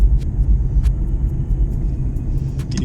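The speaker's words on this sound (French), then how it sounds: "Parce que ce son là, j'en ai vu des Mustangs, mais pas avec un son aussi rauque." Ford Mustang with a raspy aftermarket exhaust rumbling steadily, a deep continuous low drone heard from inside the car, fairly loud with no talk over it.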